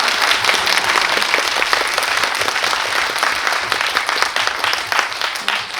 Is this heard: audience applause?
yes